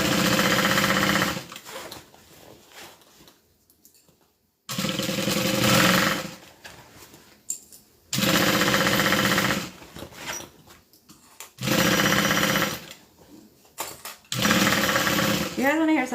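A sewing machine stitches a quilted bag in repeated bursts of steady, loud mechanical whirring, each run lasting a couple of seconds and separated by quieter pauses with faint handling noises.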